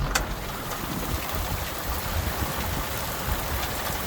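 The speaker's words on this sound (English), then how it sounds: "the rain just came out of nowhere, formed, and a little bit of a thunderstorm here" Steady rain falls outdoors during a light thunderstorm on a farm field, a constant close hiss of drops drumming on surfaces with no pauses and no voices.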